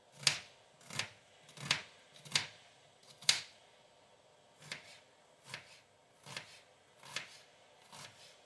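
A knife chops a red onion on a board in ten crisp, evenly spaced strokes, close and quiet with no talking.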